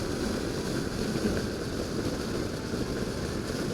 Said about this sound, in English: This is what the wind causes.